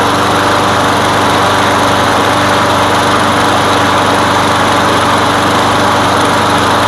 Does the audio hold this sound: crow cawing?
no